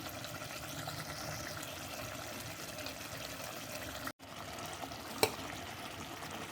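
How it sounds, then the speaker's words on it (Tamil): Half-boiled rice stirred into a mutton biryani masala in a pot, a soft wet bubbling and scraping at moderate level, broken by a brief silent gap and a single sharp knock. "அதை கொஞ்சம் கொஞ்சமாக போட்டு இதில் மிக்ஸ் பண்ணிடுவோம்."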